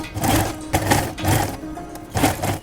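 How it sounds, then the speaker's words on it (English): A sewing machine runs a straight stitch through fabric for a handbag, in four short whirring bursts with brief pauses between them, close and fairly loud. "Here we're going to make a straight stitch."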